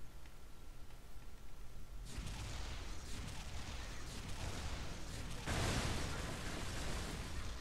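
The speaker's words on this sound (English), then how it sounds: "That's a huge ass explosion." A huge rocket launcher explosion in the video game Metal Arms, a sudden loud booming burst followed by a sustained rumbling roar, then a second blast that swells louder near the end.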